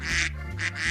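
Cartoon ducks on a pond quack in two quick nasal bursts within a second, bright and close, with a low background hum and no speech.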